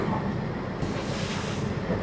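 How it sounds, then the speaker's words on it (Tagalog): Strong waves surge around a boat at sea on rough water, a continuous rushing churn mixed with heavy wind buffeting the microphone, loud and close with no break. "Ang lakas ng alon na para bang tataob yun."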